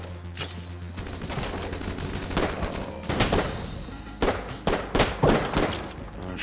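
Gunfire from a heavy-knockback weapon in the video game Enter the Gungeon, with repeated shots and short rapid bursts of booming blasts and thuds over a steady game soundtrack, and no talking.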